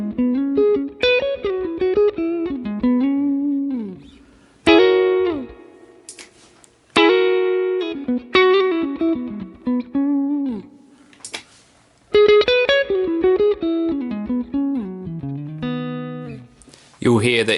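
Electric guitar played through a Line 6 Helix, with a low-high shelf EQ placed between amp and cab boosting the lows by 12 dB; loud melodic single-note and chord phrases in several bursts separated by brief pauses, heard alone.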